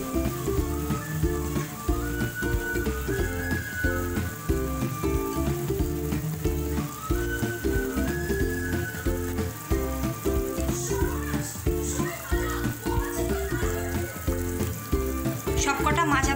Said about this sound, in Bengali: এবার আমরা মাছগুলো এক এক করে ছেড়ে দেব